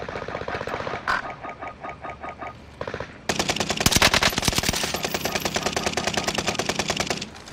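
Rapid automatic gunfire from the video game Call of Duty: Modern Warfare, starting as a lighter rattling burst, then a loud sustained stream of closely spaced shots near the listener, with no talk over it.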